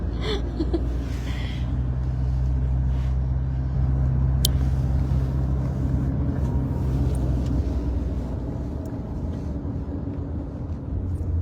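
Steady, loud low engine drone and road rumble from a car being driven, continuous throughout with no talking.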